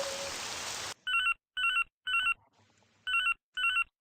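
A public telephone in a video game rings in five short electronic bursts, evenly spaced and fairly close, after a second of rain-like hiss that cuts off abruptly.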